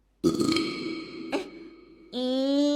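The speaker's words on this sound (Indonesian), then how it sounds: "Kok sendawa aku kayak gitu sih? Bobrok banget kayak sapi" A loud, drawn-out human burp rumbles for about two seconds with a brief surge in the middle, then ends in a higher, steadier belch.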